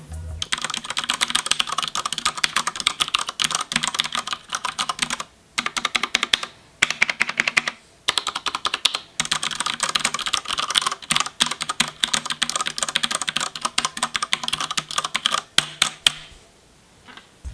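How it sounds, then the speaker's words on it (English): Rapid, steady typing on a Ducky One 2 mechanical keyboard with Cherry Brown switches, dense clacking keystrokes close up with a few brief pauses, no talking. "These are the cherry brown switches."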